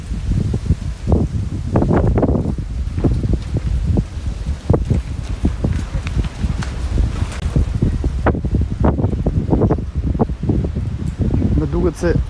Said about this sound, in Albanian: fryn shumë erë këtu